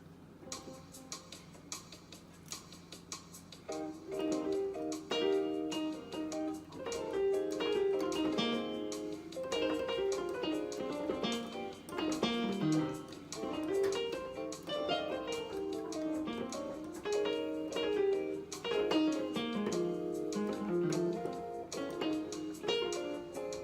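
A piano solo played the way an inexperienced soloist would sounds like an unsure run of notes and chords that starts sparse and quiet, then carries on at moderate volume without talk.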